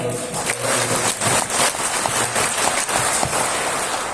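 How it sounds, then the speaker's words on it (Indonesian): An audience at a civil service briefing claps together in a continuous, fairly loud patter of many hands. No talk over it, and the clapping holds steady to the end. "Tepuk tangan"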